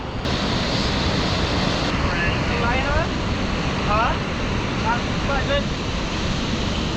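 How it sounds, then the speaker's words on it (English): Powerful ocean surf breaking at the Raglan point break in New Zealand, a steady roaring wash with wind buffeting the microphone and faint distant voices. "Insane waves in New Zealand."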